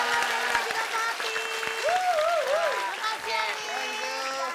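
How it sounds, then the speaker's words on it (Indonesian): An audience claps steadily for the guests on a comedy talk show, a sustained wash of applause. Music plays over it and people speak. "kita kasih tepuk tangan buat saudara dan juga Papi."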